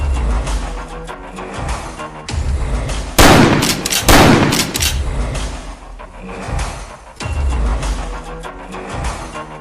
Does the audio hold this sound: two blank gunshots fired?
yes